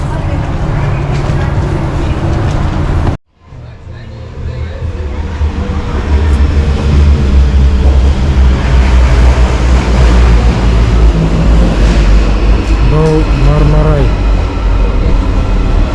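The Marmaray commuter train in Istanbul rumbles loudly from inside the carriage, with a sudden brief drop in sound followed by heavy low roar and squealing wheels, while people talk over it.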